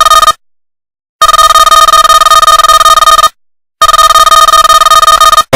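A telephone rings loudly and close with a bright electronic bell tone in long bursts, each followed by a short silent gap, and no voices over it.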